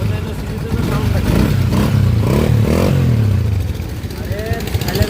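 A Honda CG 125 motorcycle engine idles and revs close by, a steady mechanical clatter with rising and falling throttle, while someone talks over it throughout.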